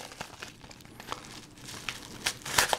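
Knife with a super thick blade, an S&G, slicing open a thick paper envelope, giving crisp crinkling and tearing paper noises that build to a louder rip near the end, close and clear with no talk.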